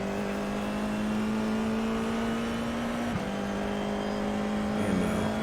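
A Formula F4 race car accelerates around the Long Beach street circuit in a racing video game, its engine a steady loud drone that holds one pitch before shifting slightly and continuing.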